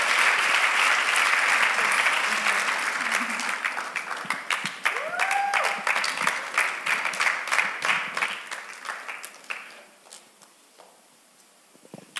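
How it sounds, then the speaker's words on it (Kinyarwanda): Audience applause at a church youth talk show, loud steady clapping that gradually thins out and fades, with a brief voice in the middle. "mureke tumukomere amashyi tumushimire imana imuhe umugisha"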